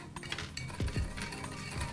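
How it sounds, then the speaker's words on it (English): A bar muddler mashing a sugar cube with bitters and water in a glass for an Old Fashioned: a few soft clinks and dull knocks of the muddler against the glass bottom, close and quiet, with no talking. "Taking a bar muddler, mash the sugar cube"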